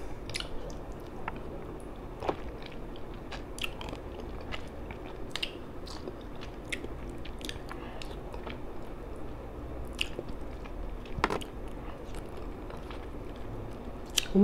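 Someone eating a large fish head with chilli sambal belacan, close-up mouth sounds of wet chewing and biting with occasional crunches, steady throughout without talk.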